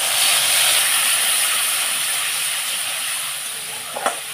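Spice paste of ginger, cumin, coriander and tomato hits hot oil with a loud, steady broadband sizzle that holds for about four seconds, easing slightly before a brief clatter near the end.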